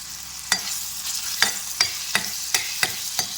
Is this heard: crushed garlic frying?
yes